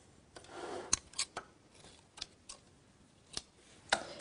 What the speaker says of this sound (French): Je coupe mes fils